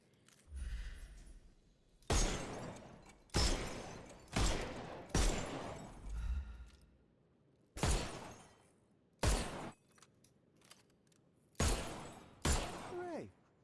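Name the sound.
pistol shots hitting targets in Sherlock Holmes video game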